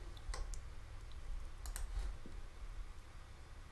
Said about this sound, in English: I'm just going to type in my details. Okay, I'm just going to click on allow.